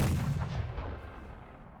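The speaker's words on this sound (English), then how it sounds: "Next up, the 24-pound barbette." A 24-pound barbette cannon fires once in the Civil War game Battle Cry of Freedom: a deep, heavy boom that rolls out and fades over about two seconds, with no other sound present.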